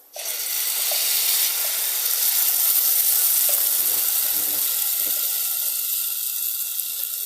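Masala for a muddusha fish curry sizzling hard in a hot pan, a loud continuous hiss with faint stirring scrapes beneath it, steady throughout with no talking.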